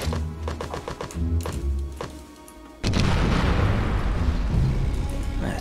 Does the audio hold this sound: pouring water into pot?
no